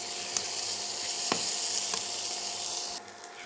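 Ground chili and spice paste with turmeric fries in a pan with a dense, continuous sizzle close by, a few faint scraping taps of stirring, and a sudden drop in hiss near the end.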